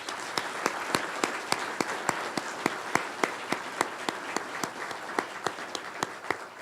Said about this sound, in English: Please join me once again in giving them a round of applause